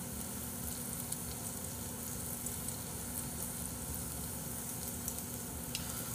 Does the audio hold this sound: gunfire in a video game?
no